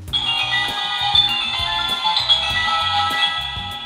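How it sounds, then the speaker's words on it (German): A toy magic lamp's jewel button rings as a bell, a bright sustained electronic chime tone held steadily with a faint repeating pulse beneath it, loud and close. "Der Juwelenknopf ist eine Klingel. Damit wecken wir den Mixi auf."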